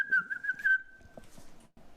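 A spectator at a boys' high school soccer game whistles a short high tune, clear and close for about a second, with murmuring crowd voices and faint talk behind it.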